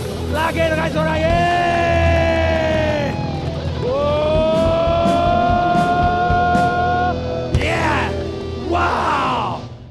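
Audience at an Indonesian TV seminar show cheering: loud whoops and sustained yells from the crowd rise and fall over about ten seconds, with some clapping mixed in.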